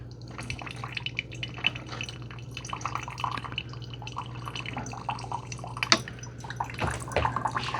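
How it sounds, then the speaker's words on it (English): Keurig K-Crema coffee maker running a fresh hot-water rinse with no pod inserted: water trickles and drips steadily over a low constant machine hum, close and fairly quiet. "you'll want to do these fresh water rinses once in a while with no K-cup in there"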